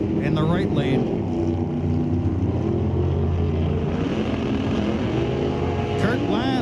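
A 1990 Camaro and a rival car launch off the line at an NHRA drag race, a loud sustained engine roar with rising and falling harmonic sweeps, heard under a track announcer's talk.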